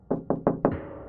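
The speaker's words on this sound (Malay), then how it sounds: "aku dikejutkan dengan bunyi ketukan yang sama." Four firm knocks on a door in the dead of night, evenly spaced and fairly close, each a sharp thud with a short ring-out and no voices around them.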